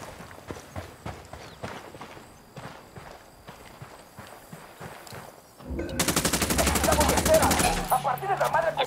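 Sustained automatic gunfire from Ghost Recon Wildlands erupts loud and close after a quieter stretch of scattered shots and footsteps, continuing as a rapid, dense rattle with voices faintly beneath.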